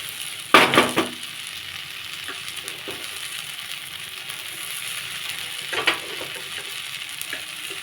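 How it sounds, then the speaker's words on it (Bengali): Washed flattened rice is tipped into a hot pan, setting off a sharp burst of sizzling that eases to a soft, steady fry, with a brief clatter later on and no talking. "ধুয়ে রাখা চিড়েগুলো দিয়ে দেবো।"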